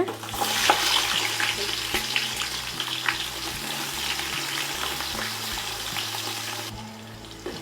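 Onions sizzle and crackle steadily in a hot pan, with occasional stirring scrapes. No voices.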